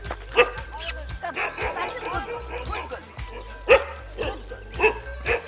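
Several dogs bark and yip in short, sharp bursts at close range, guarding their territory, with a few louder barks standing out as people talk over them.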